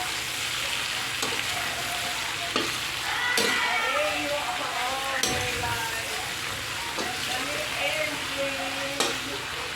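Shrimp fry in butter and soda in a pan and are stirred. A steady sizzle runs throughout with scraping stir strokes and occasional utensil knocks.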